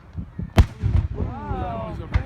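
Fourth of July fireworks explode in a few sharp booms, with crackling and whistling trails between them, while spectators chatter nearby.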